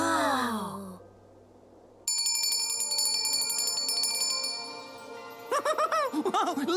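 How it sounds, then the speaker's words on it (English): A cartoon Christmas bell rings with a bright, sustained metallic shimmer through the middle, framed by sighing and groaning character voices before and after. "I'm ringing the Christmas bell!"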